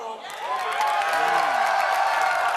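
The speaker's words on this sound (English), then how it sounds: "can I get a round of applause from our Instinct fans?" Fans at a tournament match cheer and applaud, building into a loud, steady crowd roar with whoops and whistling tones riding over the clapping.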